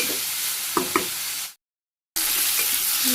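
Vegetables stir-fried slowly in a pan over low heat for a Bangladeshi village curry, giving a steady close sizzle with two sharp utensil knocks, then a brief dead silence before the frying hiss resumes.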